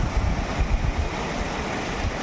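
The Urmani river flows strongly beside rice paddies during planting, a dense, continuous rushing roar that stays close and loud throughout, with gusts of wind across the microphone.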